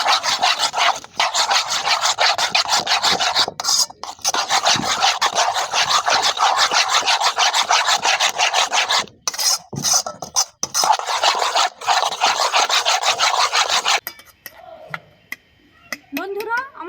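Eggs are beaten by hand with chili and turmeric powder in a bowl, a rapid, steady, close scraping rhythm with a few brief pauses that ends near the finish, followed by light clinks.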